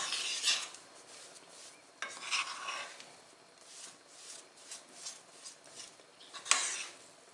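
A spoon scrapes and clinks against a bowl while tahini is mashed and mixed into a halva mixture, in quiet irregular strokes close by with no talk.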